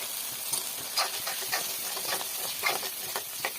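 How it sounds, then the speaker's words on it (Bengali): Cumin, chili and turmeric powders sauté in a pan with a splash of water, giving a soft, continuous hiss and sizzle with a few light scraping strokes of a spoon, moderately close, with no voices. "একটু হাতে ছিটা দিয়ে একটু জল দিয়ে এটাকে ভালো করে কষাবো"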